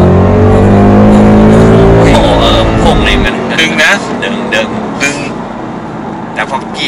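Ford Mustang V8, 55th anniversary edition, accelerating hard from inside the cabin; the engine climbs loudly for about three seconds, then drops away as someone talks excitedly over the fading sound.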